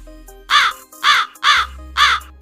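A crow caws four times in a slow, even rhythm, each call loud, harsh and close, with short gaps between and no voices.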